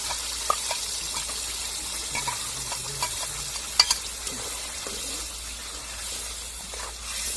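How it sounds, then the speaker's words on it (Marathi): Girvi masala frying in a pan on a home stove, a soft steady sizzle with intermittent scrapes and clinks of a spoon stirring, close and moderately quiet, no voices. "आता आपल्याला जो गिरवीचा मसाला आहे तो परतून घ्यायचा चांगला."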